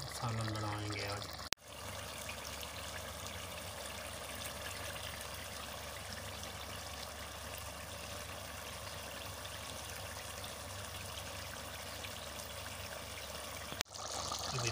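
Water pouring into a karahi of simmering chicken salan, a steady trickling and sizzling wash that runs continuously after a short burst of talk at the start.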